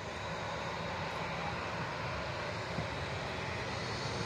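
Steady, loud roar of a Southwest airliner in its Maryland Heritage livery taking off at BWI airport, a broad continuous engine rumble heard from nearby without any break.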